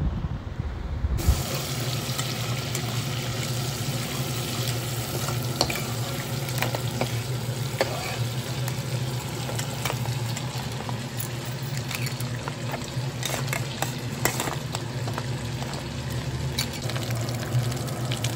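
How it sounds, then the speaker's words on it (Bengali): Crabs fry in a pan with a dense, continuous sizzle and crackle that stays loud and steady throughout, with scattered sharper pops and occasional stirring scrapes. "এখানে কাঁকড়াগুলো হালকা করে ফ্রাই করা হয়ে গেছে"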